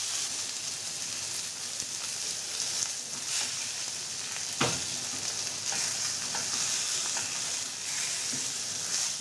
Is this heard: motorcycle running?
no